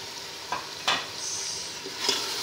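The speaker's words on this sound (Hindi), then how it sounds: "अब इसमें चिकन डाल देंगे और चिकन को अच्छी तरह भूनेंगे।" Chicken sizzles in a hot pan while being stirred with a utensil, a steady frying hiss broken by a few sharp scraping stirs, close and clear, with no one talking.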